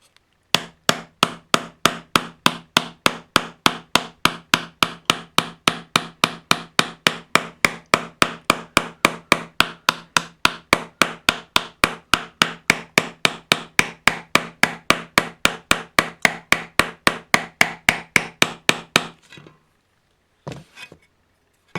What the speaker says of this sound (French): Avec la partie boule de mon marteau, je vais enfoncer l'intérieur de mon empreinte.